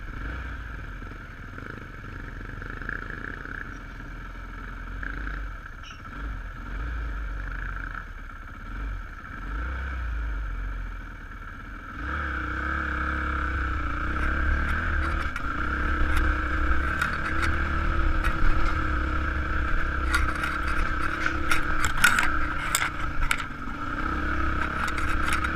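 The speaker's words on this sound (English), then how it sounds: "The ladies are riding Honda CRF 150s" Honda CRF 150 dirt bikes climb a trail, their small engines droning steadily and growing louder and busier partway through, with occasional scrapes and clatter over the terrain.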